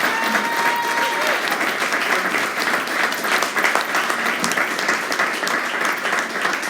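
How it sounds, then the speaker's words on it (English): Audience applause fills a live business book club event: dense, steady clapping from a sizeable crowd that holds at full strength for several seconds, with no talk over it. "if we can just give a big hand of applause to Frans and his team."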